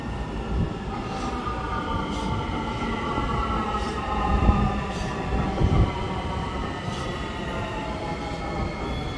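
A Honolulu Skyline rail transit train arriving rumbles steadily nearby with a constant low roar and faint rhythmic wheel clatter, no voices over it.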